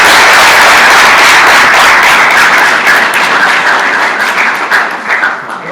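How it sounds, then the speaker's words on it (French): At a school address, an audience claps loudly for a student. The dense, close applause starts at full strength and gradually thins and fades over about six seconds. "mais applaudissons-le."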